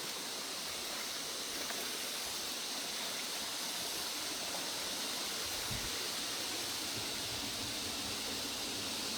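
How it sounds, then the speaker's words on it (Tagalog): A waterfall near a large boulder on a cold mountain trail gives a steady, loud broadband rush of falling water that fills the whole clip without a break. "May magandang falls."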